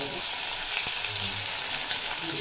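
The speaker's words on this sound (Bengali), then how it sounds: "তেল গরম হয়ে গেছে, এই তেলে আমি কয়েকটা চিংড়ি মাছ ভেজে নেব।" Turmeric- and salt-coated shrimp fry in hot oil, producing a steady close sizzle with one brief clink of a utensil partway through.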